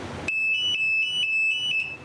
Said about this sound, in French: Ça c'est le réveil.